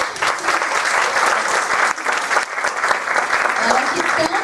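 An audience at an evening lecture claps for a visiting professor, a dense, even burst of applause that stays steady and fairly loud throughout, with a few voices murmuring underneath.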